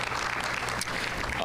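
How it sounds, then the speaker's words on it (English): An audience claps steadily in a continuous wash of hands, moderately loud and even throughout, with no single claps standing out. "I appreciate one more round of applause for these folks and their time and their work."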